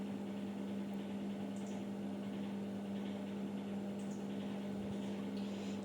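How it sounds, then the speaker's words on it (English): A microwave oven heats a liquid glucose mixture for gumpaste with a steady, even hum and faint fan noise, constant throughout with no breaks. "And microwave this again for 25 seconds"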